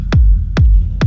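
Three heavy, booming techno kick drums with a rumble bass layer hit at an even tempo, each with a pitch-dropping punch and a deep rumbling tail.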